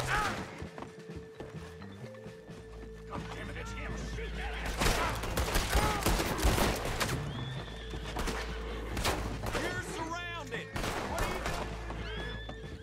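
Gunfire in Red Dead Redemption 2 rings out in sharp bursts amid neighing horses and clip-clopping hooves, with voices talking over the chaotic scene.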